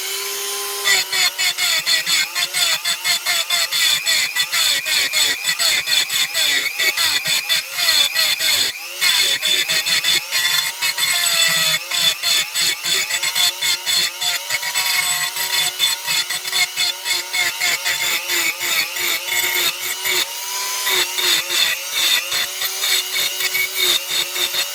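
A power tool grinds away at a moped engine crankcase being prepared for a 50cc Doppler kit, a loud, continuous abrasive whine with rapid chattering textures and a brief break partway through, running steadily and close.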